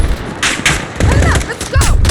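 Rapid gunfire in Modern Warfare, with several close, loud bursts of shots and booming impacts packed into a couple of seconds, while voices shout over it.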